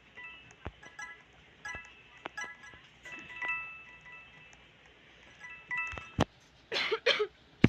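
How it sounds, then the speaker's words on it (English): A person coughs a few times in short close bursts near the end, after a quiet stretch of faint game sounds and chiming tones. "Sorry, I have a cough right now."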